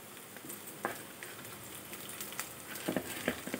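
Garlic sizzles in hot oil in a pan as chopped ginger and green chilies are added for a moong dal tempering, with a steady faint crackle and a few sharper spits scattered throughout.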